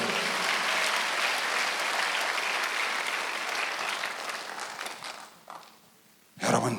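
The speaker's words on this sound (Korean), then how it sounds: "빨리 박수하세요" Church congregation applauding during a Sunday worship service, a dense sustained wash of many hands clapping that thins out and drops near the end before a brief burst returns.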